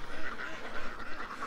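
Ducks quacking in short, repeated calls at close range outdoors in the dark, a quick irregular run of nasal honks with faint background noise.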